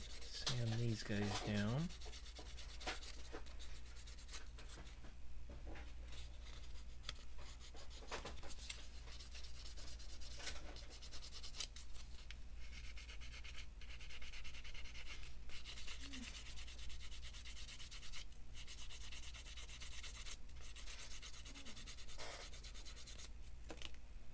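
Nendoroid figure parts are ground down by hand with grit sandpaper, making soft, continuous rubbing and scraping strokes at close range. The sound is quiet and steady, with no speech.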